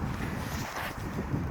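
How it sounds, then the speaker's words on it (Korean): Gusty wind at a campsite buffets the microphone in a steady broadband rush, with a short sharper gust at the very end. "지금 바람이 좀 불기 때문에"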